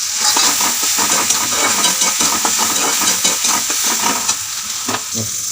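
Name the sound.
onion, tomato and garlic frying and stirred for egg bhurji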